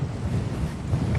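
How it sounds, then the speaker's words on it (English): Strong wind roars steadily across the microphone by the sea in Batumi, Georgia, a loud, continuous buffeting rumble with no voices. "it is mega windy"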